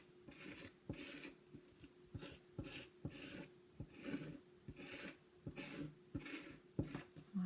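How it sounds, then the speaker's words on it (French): A utensil scrapes and mashes dough against the sides of a bowl as it is mixed, giving repeated rasping strokes in a steady rhythm with soft thuds between them. The sound is close and quiet, with no talking. "je racle et j'écrase un petit peu pour mélanger ma pâte"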